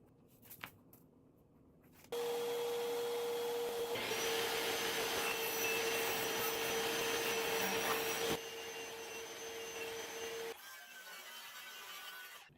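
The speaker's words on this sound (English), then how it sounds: "Here I'm sanding." Power sander working a wooden panel for a wall-mounted jewelry armoire cabinet: a steady whirring hum lasting about eight seconds with a constant tonal whine, then winding down and stopping.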